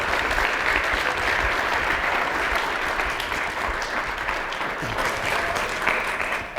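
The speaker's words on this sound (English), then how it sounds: "Please help me give them a round of applause." Sustained audience applause at a professional presentation session, a dense, even wash of clapping from a crowd lasting several seconds with no break.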